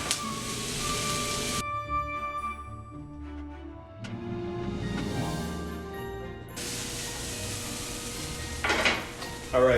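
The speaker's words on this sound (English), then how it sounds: "The next thing we're gonna do is cook the meat right in with the onions." Ground meat and onions cooking together in a pan, a steady close sizzle and crackle with occasional scrapes and clinks of a utensil against the pan.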